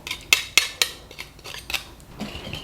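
A utensil clinks and scrapes against a bowl as a bulgogi marinade with pureed pear and onion is mixed. Several sharp taps come first, followed by quieter, irregular stirring sounds at close range.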